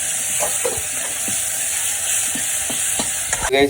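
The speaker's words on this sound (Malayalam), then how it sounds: "നന്നായിട്ട് ഇളക്കി ഇളക്കി മിക്സ് ചെയ്തെടുക്കാം" Close sautéing in a pan, a steady hiss of frying with soft repeated stirring scrapes and clicks of a utensil, ending in a brief louder clatter.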